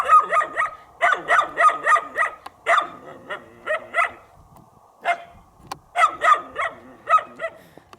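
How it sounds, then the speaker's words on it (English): A dog barks close by at the Meroë pyramids in Sudan in rapid bursts of several sharp barks, pausing briefly between volleys, with a few lone yips mixed in. "Now the dog finally realized I was here."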